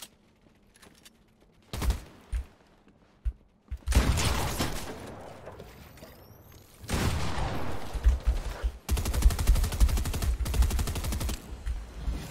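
Gunfire in Fortnite comes in repeated bursts: scattered shots, then sustained rapid automatic fire with loud dense volleys toward the end, close and with no talk over it.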